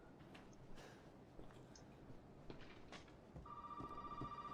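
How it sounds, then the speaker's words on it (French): A telephone rings in the Resident Evil 7 game, a steady electronic ringing tone that starts late over quiet, murky ambience and continues to the end, fairly soft in level. "Ah, il y a un téléphone."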